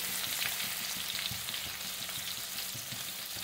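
A soft, even sizzle of ginger-garlic paste and chopped green chillies frying in oil for a dal tadka, with faint stirring bumps underneath.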